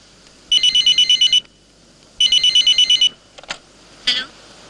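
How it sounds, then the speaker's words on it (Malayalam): A telephone rings in two clear bursts of rapid electronic trilling, each lasting about a second, followed by a couple of brief clicks and knocks, in an indoor movie scene. "എന്താ സാർ ഫോൺ അടിച്ചിട്ട് എടുക്കാത്തെ?"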